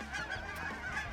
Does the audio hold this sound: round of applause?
no